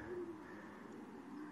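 Breeding hen pigeons kept apart from the males coo softly while being fed, low throaty calls rising and fading at close range over a steady background hum.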